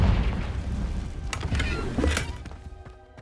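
A Confringo spell detonates in Hogwarts Legacy, a deep booming blast with crackling debris that rumbles and fades over about three seconds.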